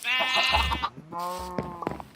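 Two drawn-out sheep bleats from a Minecraft farm, loud and close, the first higher and wavering, the second lower and steadier after a brief pause.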